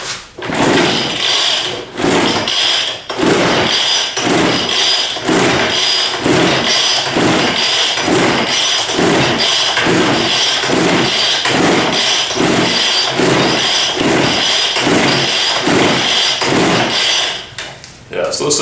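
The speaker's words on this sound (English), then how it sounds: "Hold handle with right hand and pull starter quickly until engine fires" A Weed Eater 940 leaf blower that won't start gets its starter cord yanked over and over, a loud, close, rhythmic series of ratcheting pulls, each a rasping whir, about one per second without the engine catching.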